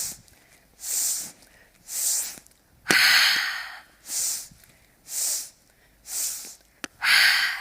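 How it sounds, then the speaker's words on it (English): Rhythmic yoga breathing, with short sharp inhales through the nose repeated in sets, each set closed by a longer, forceful exhale, close up and with no other sound. "3 inhales, 1 exhale, okay? 3 inhales, 1 exhale."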